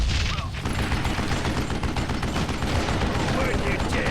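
Gunfire in the Wild West shooter Call of Juarez: Gunslinger, a dense, continuous volley of shots running the whole stretch at steady loudness, with no clear pauses between reports.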